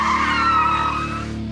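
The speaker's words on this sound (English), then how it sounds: "Quick swerve one way, cut hard the other, pull the handbrake." A car squeals its tires in a sharp handbrake turn during a driving challenge, one brief, loud, tonal skid that fades toward the end.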